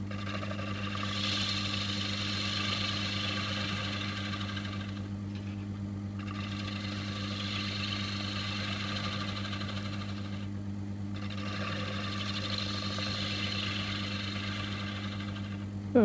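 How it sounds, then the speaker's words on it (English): A wood lathe runs steadily while a half-inch Henry Taylor spindle gouge turns a wooden plate, a constant motor hum with hissing cutting noise that pauses briefly twice, no talking. "I think I'm taking this off with a, looks like a spindle gouge, 1/2 inch spindle gouge."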